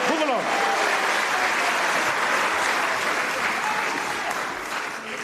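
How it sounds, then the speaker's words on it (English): Audience at an anniversary event applauding children, a brief voice at the start giving way to steady, dense, loud clapping that holds for several seconds before easing slightly. "round of applause for our kids"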